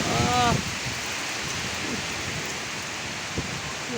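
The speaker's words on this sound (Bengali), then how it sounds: "বৃষ্টি" Heavy rain falling during a Kalbaishakhi storm, a steady dense hiss of downpour close by, with a brief voice at the start.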